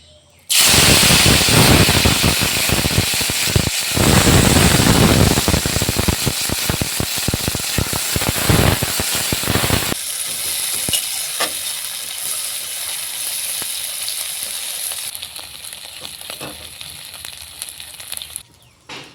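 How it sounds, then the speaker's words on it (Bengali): Loud, crackling sizzle of dried shrimp frying in hot mustard oil, fierce at first and gradually calming to a softer steady hiss, with no talking. "এখন তেলের মধ্যে চিংড়ি মাছের শুটকিগুলোকে ছেড়ে দেব।"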